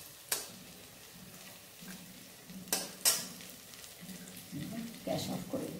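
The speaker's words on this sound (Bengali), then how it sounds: "এবার এগুলো তুলে নিয়ে বাকি কটাও ভেজে নিই" Pakora fritters made from rui fish fat are lifted from hot oil, with a soft low sizzle broken by sharp clinks and scrapes of a utensil against the pan.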